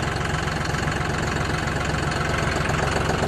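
A John Deere 5065E tractor engine idles steadily at close range, a continuous low, knocking diesel rumble with constant vibration and no breaks or voices.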